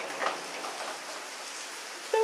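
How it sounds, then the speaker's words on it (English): Monsoon rain pouring down in Koh Phangan, Thailand, a steady broadband hiss of falling drops filling the short stretch, close and fairly loud, with a faint tone at the end. "The rain!"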